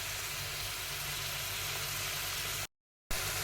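Tomato paste frying in hot oil for a catfish curry (magur macher rosha), a steady, close, hissing sizzle that runs unbroken, cuts out for a moment, then resumes.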